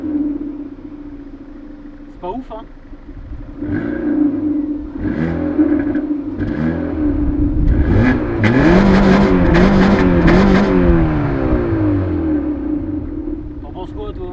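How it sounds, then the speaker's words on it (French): A Peugeot 407 Coupé engine starts nearby and is revved repeatedly, the rising and falling whir swelling into louder blips before easing back to idle, while someone talks briefly over it. "on va un peu démarrer le moteur là"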